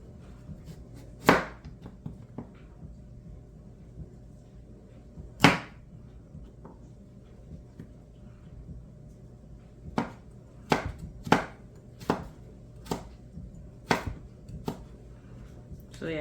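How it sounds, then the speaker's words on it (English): A knife julienne-cuts vegetables by hand for kimchi, sharp chops hitting a board: a few isolated strikes, then a quicker run of evenly spaced cuts, close and crisp over a quiet room hum. "to do some julienne style type of cutting"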